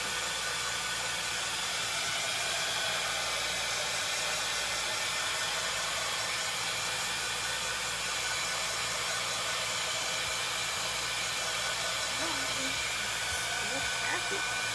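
A hair dryer drying paint on a stenciled board craft project runs as a constant loud, close whooshing hiss throughout, with faint talking beneath it.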